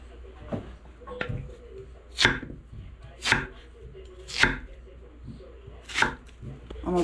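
Cuban viandas being chopped on a board for caldosa, a knife striking in about seven sharp, unevenly spaced chops with short pauses between them, close and fairly loud.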